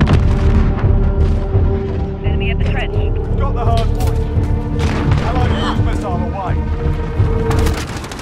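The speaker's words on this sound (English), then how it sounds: "Allied cruise missile away." An allied cruise missile strike in Call of Duty Modern Warfare on a multiplayer map, heavy booms and thuds rolling under continuous battle noise and game music, with voiced radio callouts over the top.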